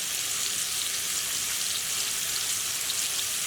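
Spiced lamb cutlets frying in a pan, giving a loud, dense, continuous sizzle that holds steady throughout with no talking.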